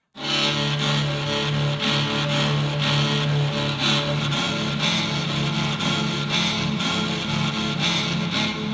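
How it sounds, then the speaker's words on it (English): A dark, droning synth pad holds a low, sustained chord with a gritty, slowly pulsing texture, steady and fairly loud throughout. "there is a preset up here called Ambient Low Pad"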